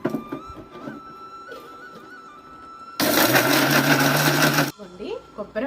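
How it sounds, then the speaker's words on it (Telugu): A mixer grinder whirs loudly for about two seconds, blending shallots, tamarind, chili powder and rock salt into a paste for spice powder, set between stretches of quieter kitchen handling noise. "వీటి వరకు మిక్సీ పట్టేస్తాం."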